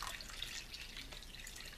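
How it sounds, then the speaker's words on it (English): Water is poured into a small waterproof plastic baggie holding a piece of paper, a close, steady wash of trickling and splashing liquid with no voices. "Now you take your plastic baggie and you drop the paper in there. And then you pour your water."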